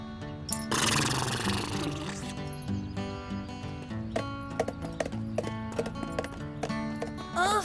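A horse's hooves clip-clop in a steady rhythm through a cartoon scene, mixed with loud music and sound effects, with a burst of noise near the start.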